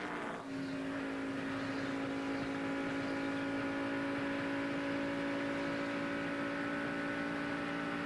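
A damaged NASCAR race car's engine runs roughly during a rain-shortened 2001 race at Michigan, a steady, strained droning hum with a sustained tonal whine, heard faint and continuous at a distance.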